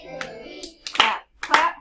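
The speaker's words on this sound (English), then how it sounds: "Clap, clap." Hand claps at a morning circle-time session with young children, a few separate claps in a rhythm, heard close and fairly loud.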